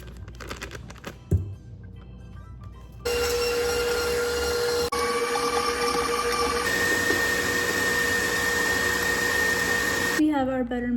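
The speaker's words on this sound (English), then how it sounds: "I'm gonna pop it in here and put it in the mixer." An electric mixer beats brownie batter with a loud, steady whirring drone that starts abruptly, shifts pitch partway through and runs for several seconds after some close handling clatter, then stops.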